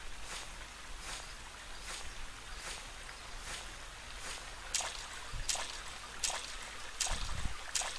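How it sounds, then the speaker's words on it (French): A steady, soft rush of a waterfall in the horror game Rake, with regular footsteps crunching along over the constant water noise. "Maintenant il y en a deux des cascades."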